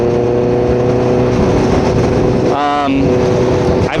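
Honda CBR650R sport bike engine revving inside a tunnel, a loud steady inline-four drone with a sharp rising rev burst near the end, heard close up from the rider's position with heavy wind and rumble.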